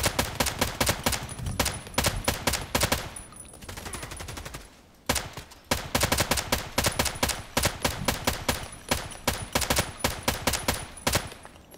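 An HK 243 LMG rattles off repeated automatic bursts in the shooter game Contract Wars, loud rapid strings of shots with short pauses between volleys, one brief lull near the middle.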